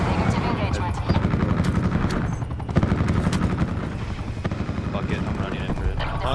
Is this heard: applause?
no